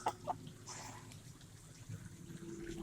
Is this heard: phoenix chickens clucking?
yes